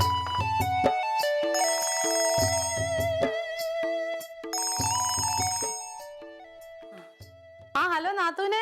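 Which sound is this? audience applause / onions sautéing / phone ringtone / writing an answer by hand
phone ringtone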